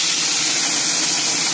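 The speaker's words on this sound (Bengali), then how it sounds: "তো যাই এবার এই ট্যাংরা মাছটা আগে ভেজে নিই।" Tangra fish sizzle in fully heated oil, a dense, loud, continuous hiss of frying that stays steady throughout the brief moment.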